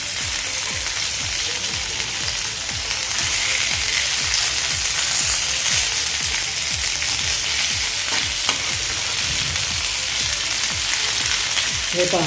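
Bangda mackerel fries in a pan with a loud, continuous oily sizzle, close up and steady throughout, while someone speaks briefly over it.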